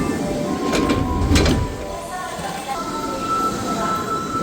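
An Osaka Metro subway train runs with a loud rumble and rattle of wheels on track, swelling early then settling into a steady lower drone, with faint station sounds and a voice in the background.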